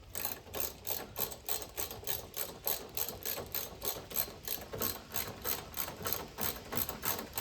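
A ratchet clicks rapidly and evenly while tightening the bolts of a new car headlight assembly, a close, continuous run of sharp pawl ticks with no talking.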